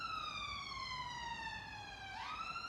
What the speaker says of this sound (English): So we have the ambulance people going by all the time.